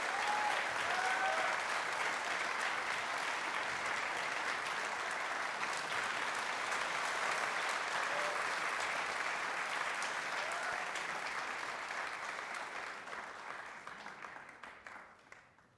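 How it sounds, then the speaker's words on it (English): Sustained applause from an audience at an Indian community gathering honouring a guest, a dense, even wash of clapping from many hands that holds steady before fading out toward the end. "a big round of applause for our guest of honor"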